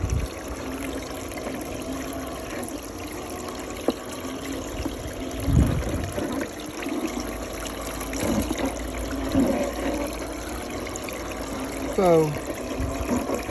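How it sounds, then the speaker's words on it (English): Water runs and trickles steadily through a gold sluice wheel outdoors, a continuous close wash of flow with small splashes, while someone talks over it at times. "I may have too much water running down"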